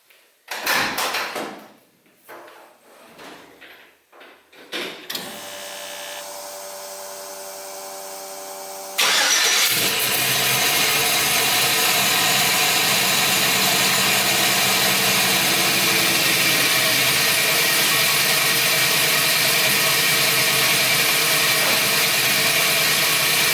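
An LS-swapped Chevrolet C10 truck on a Holley Terminator X setup is cranked after some clunks and handling noises, then fires up and settles into a steady, loud idle that continues to the end.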